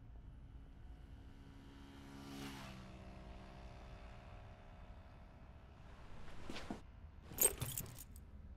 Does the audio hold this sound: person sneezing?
no